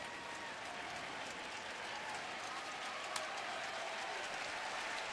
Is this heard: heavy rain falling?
no